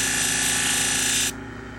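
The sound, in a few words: power tool grinding a convex edge on salon shears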